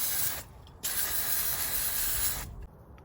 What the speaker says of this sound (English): We're gonna hit it with some brake cleaner to maybe get the oil off